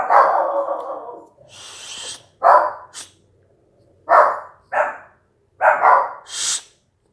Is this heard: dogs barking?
yes